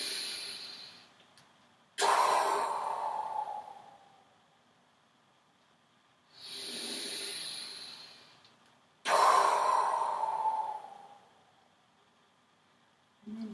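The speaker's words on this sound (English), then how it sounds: "So we breathe in, and do that 2 more times." Deep yoga breaths during a children's session come in two slow cycles, each a long hissing inhale followed by a rushing sigh-like exhale, close and clear against quiet.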